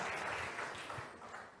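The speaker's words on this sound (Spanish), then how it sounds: "Fuertes aplausos al Señor." A church congregation applauds together at a worship service, a steady wash of clapping from many hands that fills the space throughout and slowly fades toward the end.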